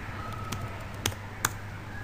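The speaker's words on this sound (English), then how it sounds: "just type in fish in the search bar" A few isolated taps on a computer keyboard, about three or four sharp clicks spread over two seconds, close but fairly quiet over a steady background hiss and hum.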